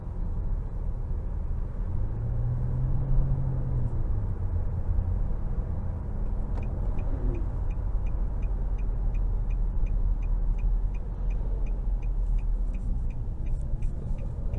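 A 2023 Nissan Maxima Platinum's 3.5-liter V6 accelerates gently in sport mode, a steady low engine drone with rising pitch heard from inside the cabin, joined later by a faint repeating tick.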